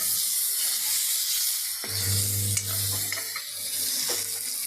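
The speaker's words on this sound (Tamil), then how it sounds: "கொஞ்சம் வதக்குங்க" Goat spleen stir-fries in a pan with a constant sizzling hiss, broken by occasional scraping and clinking strokes as it is stirred.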